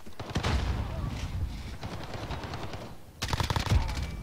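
Rapid automatic rifle fire from an M4A1 in Call of Duty: Modern Warfare, loud dense bursts with a brief pause before another volley.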